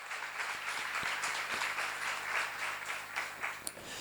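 Audience at a Korean church seminar clapping together, a continuous, fairly soft patter of many hands with scattered louder claps that carries on steadily for several seconds without speech.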